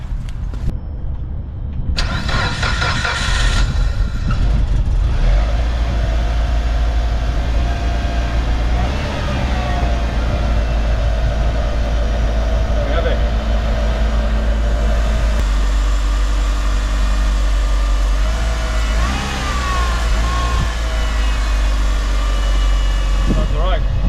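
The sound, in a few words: car engine starting and idling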